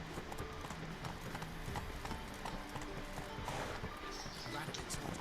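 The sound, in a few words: horse Roach galloping, hoofbeats, from video game The Witcher 3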